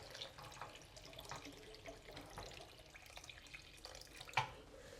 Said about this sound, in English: all we have to do is just top up water just to cover the ribs.